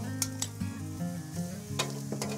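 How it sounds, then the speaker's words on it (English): Liver sizzles and spits loudly in a hot pan, with a few sharp scrapes of a utensil stirring, close up. "Oh, that's what we want, that sizzle."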